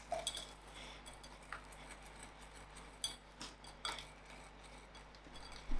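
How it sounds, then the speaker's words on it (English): Oil is mixed into a nankhatai biscuit mixture, producing faint scraping and light clinks of a utensil against a bowl, irregular taps spread across a quiet background. "To this, I'm adding my oil. Also give this a good mix."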